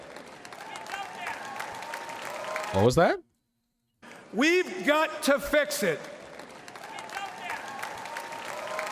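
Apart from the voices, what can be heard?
faint audience applause during a political speech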